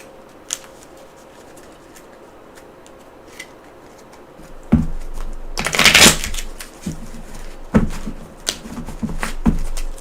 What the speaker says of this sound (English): Shuffled up.